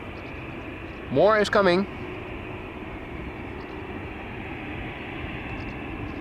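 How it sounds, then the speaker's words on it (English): A distant EasyJet Airbus A320 at Schiphol's Polderbaan makes a steady, broad jet roar that holds for the whole stretch, and a voice speaks briefly near the start. "EasyJet A320 to Manchester is coming this way."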